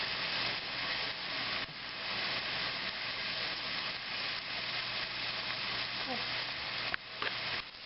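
Onion frying in a pan for a bok choy stir fry, a steady close sizzle and hiss running evenly throughout, with a brief clatter near the end.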